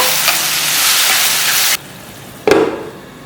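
Spices roast in hot oil for a kadhi pakora tadka, giving a loud, steady sizzle that cuts off abruptly, then flares up again in a short, sharp hiss that fades away.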